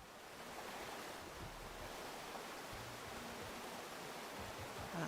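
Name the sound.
ocean waves while swimming in a video game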